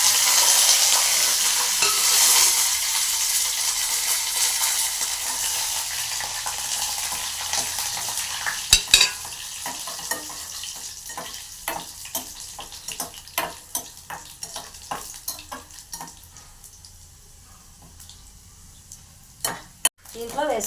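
Green chilies and curry leaves hit hot oil with a loud spitting sizzle that gradually settles, followed by sharp scattered pops and crackles as the leaves fry, with no talking.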